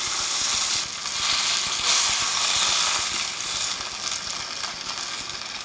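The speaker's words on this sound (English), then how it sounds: "So I'm going to start taking this out of the pan." Moose meat sizzles in a hot pan as the pieces are lifted out, a steady, bright hiss of frying with small clicks and scrapes scattered through it.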